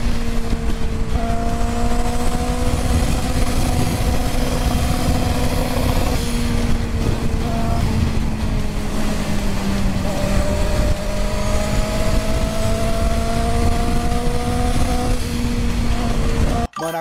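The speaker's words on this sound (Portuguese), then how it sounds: "o tanto que ele forçou essa moto é sacanagem, Renato, tá?" Motorcycle engine revved hard, a loud, close, continuous roar with shifting pitch held for the whole stretch before cutting off abruptly at the end.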